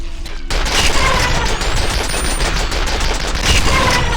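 Sustained automatic gunfire in the F.E.A.R. first-person shooter game, a loud, continuous close-range barrage that runs almost without pause from just after the start to the end.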